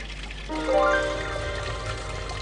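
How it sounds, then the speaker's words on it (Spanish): Water from a natural mountain stream runs into an Inca stone fountain at Machu Picchu, a soft steady trickle and splash heard alone at low level. "Estas fuentes están surtidas por un arroyo natural que se encuentra en las laderas de la montaña Machu Picchu."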